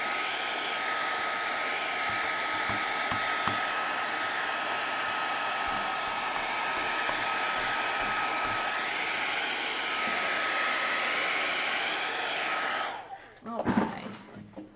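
A hair dryer blows steadily at close range to dry watercolor paint, a loud continuous airy whir lasting several seconds before it switches off, followed by a few soft knocks and handling sounds.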